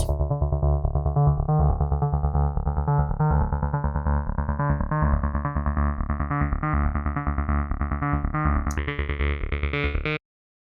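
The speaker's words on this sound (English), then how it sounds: "create an automation clip, and we can make that sweep up over time" A sustained, buzzy synth tone through the Rift Filter Lite plugin, its filter cutoff automated to sweep up so brightness steadily opens upward, the upper harmonics growing over about ten seconds before it cuts off abruptly.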